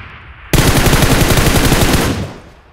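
Automatic gunfire in the video game PUBG Mobile bursts in suddenly as a loud, rapid string of shots, then cuts off and trails away.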